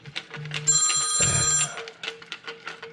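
A telephone rings in a workshop during a Lee Enfield .308 rifle restoration, one clear electronic ring burst over quieter background tones and clatter.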